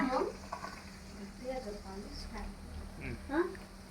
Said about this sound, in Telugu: గారెలు చేసి ఇట్లా ఆయిల్లో వేయడం అంతే నూనెలో వేసి